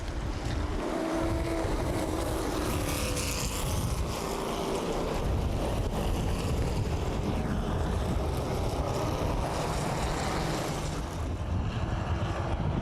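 Race cars roaring around the Anderson Speedway oval during a CRA Super Series 125 race, a loud continuous engine drone that fills the whole stretch, with wind-like rush and no pauses.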